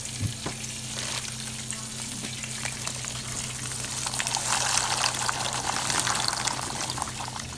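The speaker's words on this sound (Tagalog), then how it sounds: "pag mag-boil tayo ng macaroni, continuous stirring lang siya para hindi dumidikit" Macaroni boiling in a pot of salted, oiled water while being stirred continuously, a steady bubbling sizzle with scraping stir sounds, swelling slightly louder toward the end.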